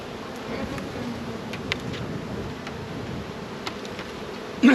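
Honey bees hum steadily around hive boxes during a hive split, a continuous close-up buzzing drone with occasional faint clicks and a brief knock at the end.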